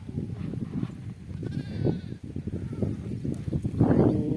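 Goats and sheep in a field give overlapping bleats, one clear wavering cry standing out amid a dense low rumble of the milling flock and hoof shuffling.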